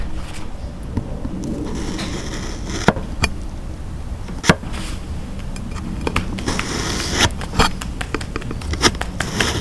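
A knife cutting with rapid, irregular clicks and scrapes over a steady background hiss, the strokes close and crisp.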